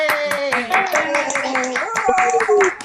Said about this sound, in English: we might have a rousing lot of applause perhaps for all the performers and for yourselves